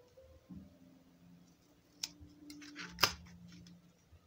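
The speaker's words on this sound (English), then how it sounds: "I'm going to cut another piece to make the tails." Scissors cut a piece of material for the tails of a hand towel toilet paper holder, giving a couple of faint, crisp snips and clicks against a quiet background.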